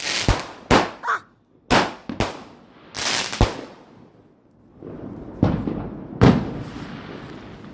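Bonfire night fireworks bursting nearby in a quick irregular series of sharp loud bangs, some close together, with crackling and a person exclaiming between blasts.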